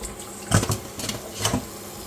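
Tap water runs steadily while chili leaves are rinsed under it, a close, continuous splashing hiss with a few louder surges as the leaves are handled.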